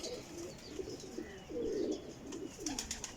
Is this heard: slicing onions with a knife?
no